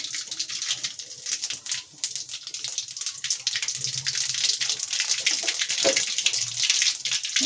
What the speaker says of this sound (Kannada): ಈ ಸಾಸಿವೆ ಎಲ್ಲ ಚಟಪಟ ಅಂತ ಸಿಡ್ದಿದೆ